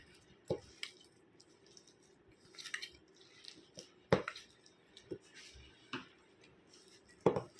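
Tamarind being hand-mixed with kasundi mustard sauce, salt and green chilli, giving soft wet squelches and occasional sharper squishes and clicks at irregular intervals, close and fairly quiet, with no talking.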